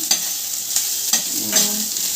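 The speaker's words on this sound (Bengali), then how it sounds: "দেখুন আমার বেগুনটা প্রায় হয়ে এসেছে আর একটু ভাজা হবে" Eggplant fries in a pan with a soft continuous sizzle, broken by four distinct stirring scrapes spaced about half a second apart, heard up close with no speech.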